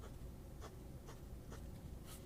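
A Hero 1086 fountain pen nib writes on paper with faint, soft scratching strokes, about four short rhythmic bursts close by in a quiet room.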